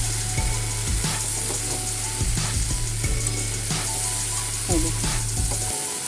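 Okra frying in oil in a pan in a home kitchen, a steady loud sizzle with scraping and stirring strokes through it, alone without talk.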